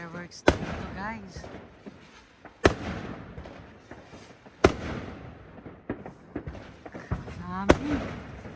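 Fireworks going off on New Year's Eve in the Netherlands, several sharp booming cracks at irregular intervals with a rumbling echo, people talking and exclaiming between the blasts.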